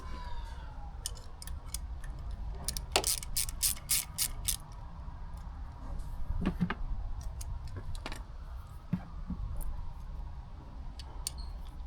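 Metallic ratchet clicks from a wrench loosening the 8 mm bolt that holds the brake pads on a Honda CB125F motorcycle, in quick close bursts with scattered tool taps over a steady low workshop hum.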